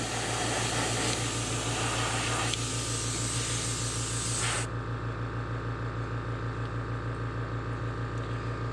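An airbrush sprays an off-white base coat onto a fishing lure, a steady close hiss over a constant compressor hum, the spray cutting out partway while the motor drone continues.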